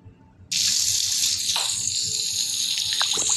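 Tap water gushes steadily into a basin during a bath at home, starting abruptly after a brief quiet moment and running on loud and close with small splashes and drips.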